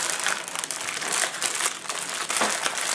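Crinkly plastic MRE pouch peeled open up close, a steady three-second rustle and crackle of the packaging with a sharper tear near the end, no talking.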